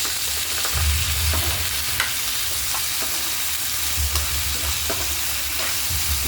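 Potato pieces tossed into a pan of softened onions for Bombay chutney, a steady close sizzle of frying with occasional scrapes and clicks of a stirring spoon.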